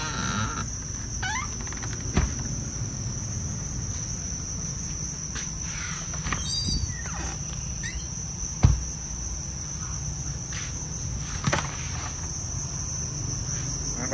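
Crickets at a cricket farm chirping in a steady high-pitched drone, quiet and continuous, with a few faint clicks and knocks scattered throughout.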